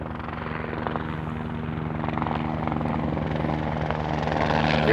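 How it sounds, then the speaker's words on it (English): A low-flying helicopter passes over the Finke desert race track, its rotor chop and engine drone steady and growing louder as it approaches, heard alone without voices. "That chopper's low."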